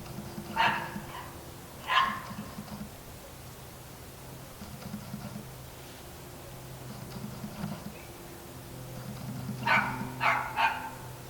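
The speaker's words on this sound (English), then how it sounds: "It's my big mouth dog." A dog barks outdoors during garden sowing, two single barks early on, then a quick cluster of three or four barks near the end, fairly close with quiet stretches between.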